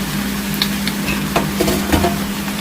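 Potatoes frying in a pan after bacon has been cooked, a loud continuous sizzle with stirring scrapes and small crackles through the short stretch, with no voice.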